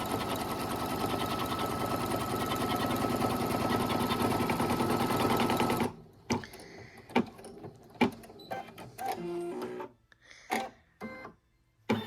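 An embroidery machine stitching a placement line, a fast continuous mechanical needle chatter for about six seconds, then stopping into scattered clicks and knocks of the machine moving and settling.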